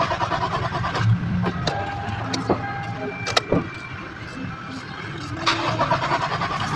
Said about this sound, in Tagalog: Tingnan natin dito kung andar na ba yung sasakyan natin.